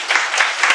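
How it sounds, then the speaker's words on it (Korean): Students applaud at the end of a class, a short burst of close, dense clapping. "여러분 박수 부탁드립니다"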